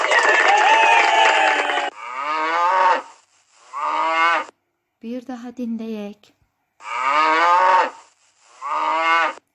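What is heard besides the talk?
cow mooing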